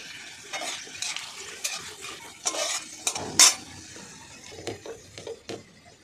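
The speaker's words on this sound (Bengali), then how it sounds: "বাদামগুলো ভাজা হয়ে গেলে তারপর একটু ওই আদা কুচো আর রসুনটা দেবো" Peanuts fry in a pan, with chopped ginger and garlic to follow, giving a low sizzle under frequent metallic scrapes and clinks of a spatula stirring against the pan, close and busy throughout with no voices.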